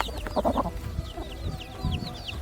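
Several chickens clucking and chirping close by, short repeated calls scattered across the clip with light background noise.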